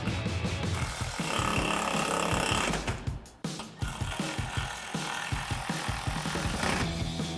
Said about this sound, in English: Grab a ratchet, 10mm socket,